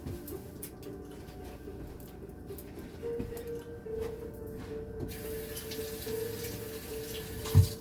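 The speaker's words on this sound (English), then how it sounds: "I'm going to wash them in cold water." Cold tap water runs steadily over food being rinsed, a soft continuous wash with a low hum beneath and a brief knock near the end.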